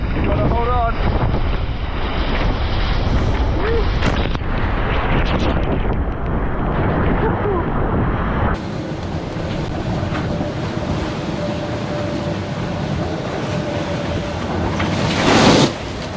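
Gale-force wind and 5-meter waves pound a racing sailboat off Cape Horn in the Southern Ocean during The Ocean Race, a continuous loud roar of wind buffeting the microphone over rushing water, easing slightly partway through.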